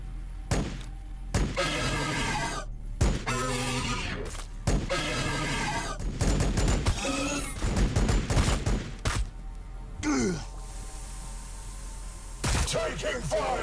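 Video game battle in Warhammer 40k Battlesector: sharp bursts of gunfire and explosive cracks come in scattered clusters over a busy combat soundscape, with a few short impacts and a rising whoosh near the end.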